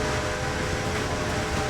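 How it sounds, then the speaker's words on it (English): The steam locomotive's horn blows loud and sustained with a steady tone in the video game Red Dead Redemption, over continuous rumbling train noise. "This baby launches and I let out the fattest horn blow you've ever heard."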